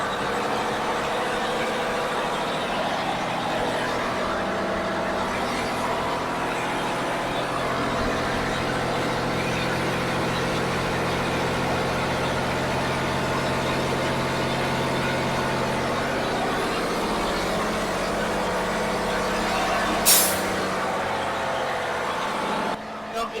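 Freightliner truck with a DD13 diesel engine idling steadily while warming to operating temperature, a loud continuous rumbling drone close by, with a brief sharp noise near the end.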